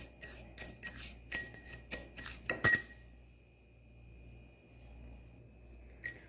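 A spoon clinking rhythmically against a glass bowl while coffee scrub ingredients are stirred, a quick series of sharp close clinks followed by quiet.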